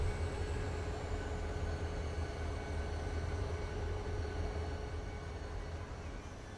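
A train in a railway-building video game runs with a steady, even engine drone and faint high tones, continuous and unchanging, with no voices.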